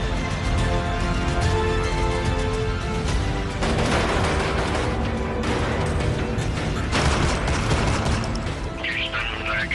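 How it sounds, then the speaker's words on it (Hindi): Bursts of gunfire crackle through a dense, noisy, lo-fi 15-year-old recording with a constant hiss and hum, shots arriving in irregular clusters. "गोली चल रही है"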